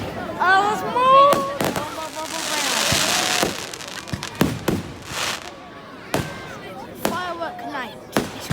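Fireworks burst on firework night, a series of sharp cracks and booms at irregular intervals with crackling between them, while people talk and exclaim excitedly throughout.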